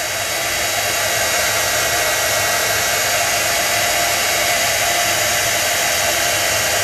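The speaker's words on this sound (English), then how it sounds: "if you hold the heat gun over the cardstock," A heat gun blows steadily over cardstock to dry ink, giving a loud, continuous broadband whoosh that holds even for the whole stretch with no pauses and no voices.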